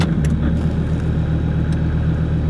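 A project car's engine runs smooth just after starting, a steady low rumble close by with a few light clicks near the start and no talking.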